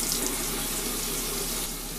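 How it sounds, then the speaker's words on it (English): Tap water running steadily into a sink while a face is rinsed: a close, loud, continuous gushing hiss with slight splashing, no voices. "I'm gonna rinse it off."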